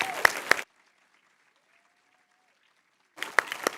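Crowd at a campus graduation ceremony applauds the graduates in two short bursts, one at the start and one at the end, with a near-silent gap between them.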